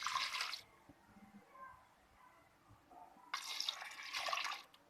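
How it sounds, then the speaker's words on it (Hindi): Water splashes and pours into a pot of washed, chopped spinach in two bursts, one at the start and a longer one near the end, with quiet kitchen sounds between. "दो ग्लास पानी डाल रही हूँ मैं उसमें।"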